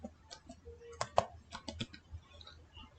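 Quiet typing on a computer keyboard while entering a search in Windows 11: a short run of separate key clicks, one louder tap near the middle, fairly close and alone.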